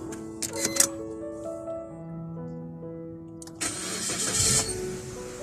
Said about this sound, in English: And we'll try the key in the ignition now.